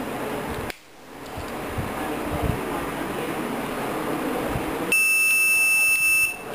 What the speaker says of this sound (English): So here's the buzzer and stop.